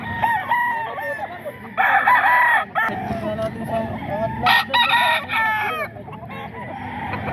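A rooster at the Bocaue market in the Philippines crows loudly and close several times, with clucking fowl and brief voices around it in a busy market setting.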